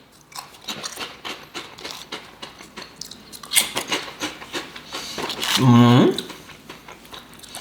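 Torres luxury Iberian ham flavour potato chips crunch in a mouth up close, a run of crisp bites and chewing crackles, with a voice talking over parts of it and a brief vocal sound near the end.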